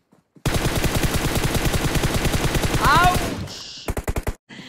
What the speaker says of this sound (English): They are shooting with somebody.